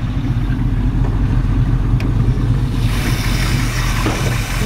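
A 1963 Chevy Nova SS engine runs loudly and steadily up close, a constant low rumble idling throughout.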